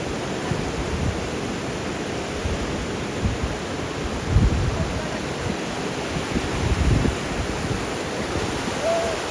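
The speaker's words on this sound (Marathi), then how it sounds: "लय मोठी लाट आली" Big ocean waves wash onto Vetye beach on the Konkan coast, a continuous broadband roar of surf with a couple of louder surges breaking partway through.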